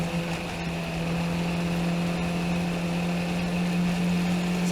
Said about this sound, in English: Sounds like the engine is getting bogged down in turn 1.